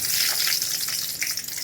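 Brinjal pieces fry in oil for badanekayi palya, a dense, continuous hiss and sizzle with no talk.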